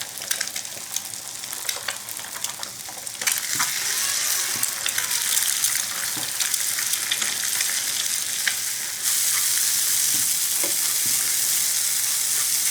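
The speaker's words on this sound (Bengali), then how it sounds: "ডিমটা ভাজা ভাজা হয়ে আসছে" Two salted eggs fry in oil in a pan, making a continuous close sizzle with light stirring clicks that grows louder and steadier partway through.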